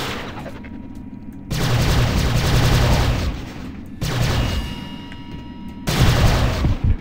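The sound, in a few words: gunfire in the video game Prey (2006)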